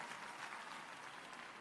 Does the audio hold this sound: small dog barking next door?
no